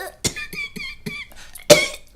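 A bedraggled, shabby wolf wheezes and coughs in a short run of rough bursts, several hacking coughs spaced unevenly and ending in two louder ones, close and alone.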